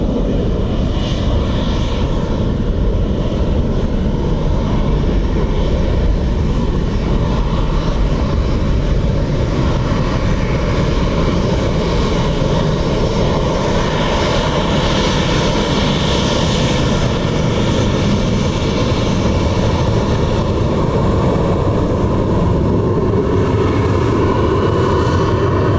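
An airplane lands on runway 28 left at Dublin Airport, its engine roar loud, broad and continuous throughout, with a sustained rumbling wash and no voices.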